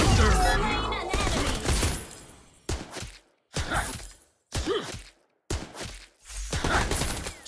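Rapid gunfire bursts in a live-streamed video game, several loud volleys broken by short silent gaps.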